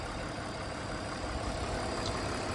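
A 2001 BMW E46 325i wagon with about 250k miles idles steadily, a constant low engine hum with broadband noise that holds even throughout, no talking.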